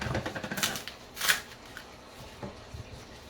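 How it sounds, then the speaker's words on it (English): Skin being peeled by hand from a plantain, a few crisp tearing and snapping noises up close, with quieter rustling between them and no talk. "this is how you peel your plantain"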